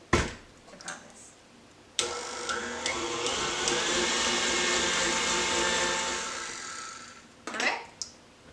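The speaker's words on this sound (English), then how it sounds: "you just keep the mixer going and it will start to become smooth and silky" An electric mixer whirs for several seconds, beating caramel apple cake batter in a bowl, a steady motor drone bracketed by brief clatters as it starts and stops.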